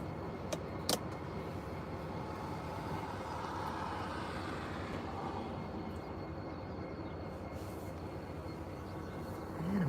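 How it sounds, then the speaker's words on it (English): A train locomotive idles steadily near Albia or Ottumwa, Iowa, a constant low rumble holding throughout with a couple of brief sharp clicks early on and a faint rise at the end. "kind of hear the engine there as we're sitting here"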